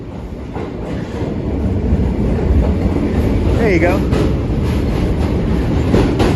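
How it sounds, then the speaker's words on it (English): A Brooklyn-bound Q subway train rolls past close by, a steady loud rumble with clickety-clack from the wheels that builds and holds throughout, while someone speaks briefly over it. "Brooklyn bound Q train."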